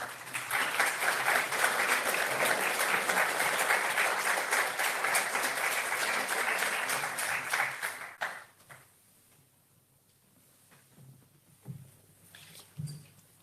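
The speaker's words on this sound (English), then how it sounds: "Et nous pouvons l'applaudir en effet." Audience applause after a screening and testimony on the Nagorno-Karabakh siege, steady and dense for about eight seconds, then fading to scattered claps and quiet room noise.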